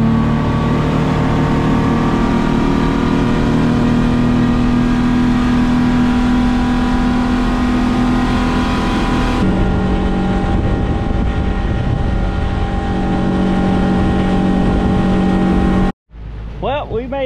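A 24ft bay boat's outboard engine drones steadily while riding over the water, loud and continuous with a hum that shifts partway through, before cutting off abruptly near the end into brief talking.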